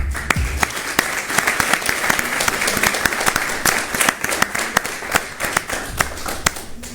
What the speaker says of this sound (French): Une ambiance, en tout cas, d'applaudissements dans cette émission.